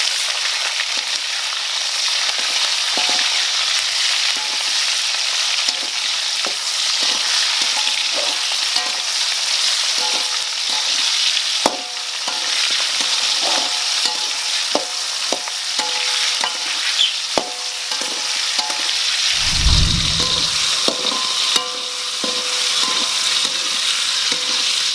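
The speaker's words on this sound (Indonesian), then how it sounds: "Nah, ini kita gorengnya samaan semuanya." Vegetables for Balinese sambal terasi sizzle and crackle steadily in hot oil, with occasional stirring clatters and a brief louder scrape near the end.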